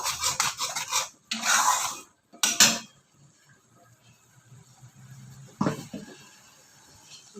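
A spatula scrapes and rubs through a Bengali spice masala being slowly sautéed in a pan, coming in rough, rasping strokes separated by short pauses, close and fairly loud over a faint background sizzle.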